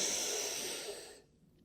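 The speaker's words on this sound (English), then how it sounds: "Nice long cleansing exhale." A long, steady breath exhaled through the nose during a yoga stretch session, close and airy, fading out into silence.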